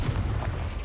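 A Confringo blasting spell goes off in the video game Hogwarts Legacy as one short, dense, booming explosion, loud and full-bodied with a rumbling low end.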